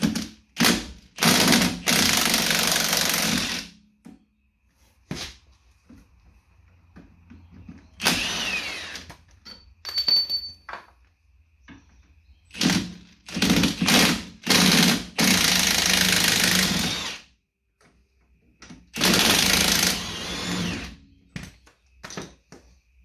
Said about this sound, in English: I'm going to pop off the bolts that hold the shock in place